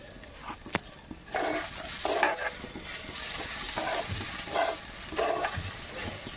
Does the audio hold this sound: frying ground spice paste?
yes